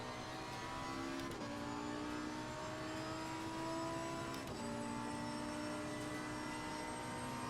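Race car engine in the Assetto Corsa driving game, played with a Logitech G920 wheel and pedals, holding a steady drone with pitch drops at gear shifts around the second and fourth-and-a-half marks, then climbing again.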